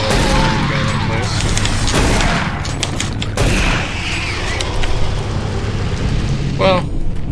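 Shotgun blasts from the Doom 3: BFG Edition first-person shooter, booming in a dense, noisy game mix with speech through much of it and several heavy shots spread across the clip.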